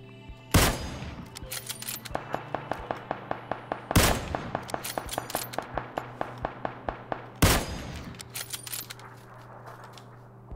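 Automatic gunfire in the first-person shooter PUBG: three loud, sharp bursts, each trailing into a rapid string of evenly spaced shots with shell-like metallic clinks between them.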